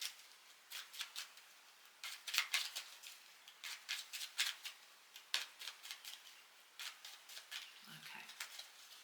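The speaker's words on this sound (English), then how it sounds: "so I'm just going to cut the deck for that." Close, soft papery riffles and taps as a deck of tarot cards is cut and shuffled by hand, a quick series of light crisp snaps in irregular rhythm, quiet and alone.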